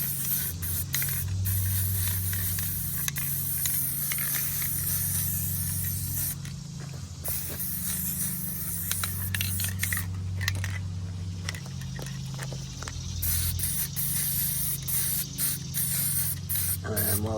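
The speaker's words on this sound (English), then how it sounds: "And while I'm spraying it on the edges, I'm kind of holding it at an angle." A spray paint can sprays fluorescent paint, held at an angle along the edges and corners of a radial rainbow design. The hiss runs steady and close for most of the clip, with short gaps where the nozzle is released.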